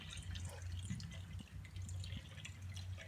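Water trickles and drips into the radiator of a Holden Commodore during servicing, a faint, quiet pouring with small splashes against a low background hum, no talking.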